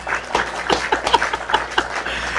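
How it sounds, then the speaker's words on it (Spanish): Brief burst of audience applause in a studio interview program, irregular claps of moderate loudness lasting a couple of seconds with no talking. "Ah, bueno, un aplauso."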